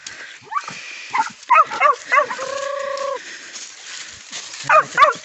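A hunting dog on an armadillo hunt barks in several sharp bursts at close range, with a steady tonal call running in the middle and more barks near the end.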